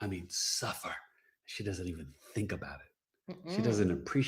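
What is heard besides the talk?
No distinct noise like a dog, phone or traffic.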